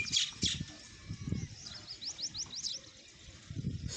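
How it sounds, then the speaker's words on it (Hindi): Small birds chirp in a village in the early morning, with a quick run of high, moderately distant tweets in the middle and soft low rustling and thumps around them. "सुबह सुबह परिंदों की आवाज़ें बहुत प्यारी होती हैं।"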